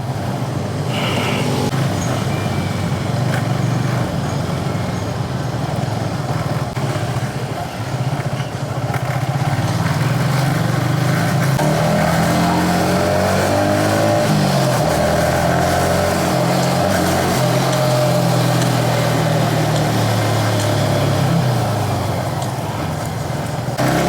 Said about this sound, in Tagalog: Maganda yung takbo ng motor na to.